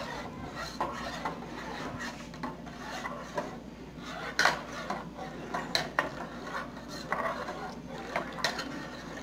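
Spoon scraping and rubbing against a bowl while lemon gelatin powder is stirred, a steady rasping texture with occasional sharper clinks, close and fairly quiet.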